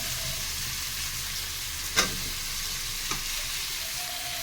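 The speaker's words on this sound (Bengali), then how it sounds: "এই সবজিগুলোকে মাংসটা দিয়ে ভালো করে কষিয়ে নেওয়া হবে যতক্ষণ না তেল ছাড়ছে।" Beans, carrot, tomato, capsicum, pointed gourd and potato frying with chicken in a pan, a continuous loud close sizzle with one sharp clink of a spatula midway.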